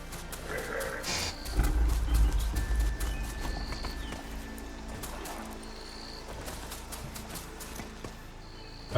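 Steady clip-clop of machine horse hooves in the video game Horizon Forbidden West over a low rumbling background, with a few faint whinnies, the rhythm holding steady throughout.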